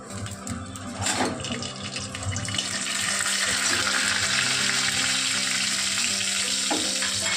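A bay leaf drops into a little extra oil in a pan where coconut was just fried, giving a brief scrape and then a steady, bright frying hiss that swells and holds.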